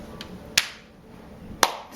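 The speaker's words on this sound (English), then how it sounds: "I'm supposed to clap my hands" Two sharp, isolated hand claps about a second apart from a grandparent at home, close by, with quiet room tone in between.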